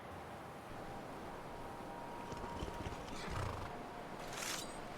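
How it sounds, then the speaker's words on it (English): In the Skyrim video game, a horse clip-clops and whinnies faintly at a distance over a low ambient game wash, with a brief louder neigh near the end. "Oh, that's the horse I heard."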